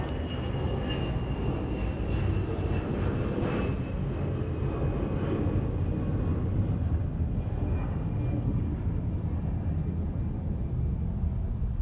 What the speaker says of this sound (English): And we're going to have an EVA Air 777 pushback as well.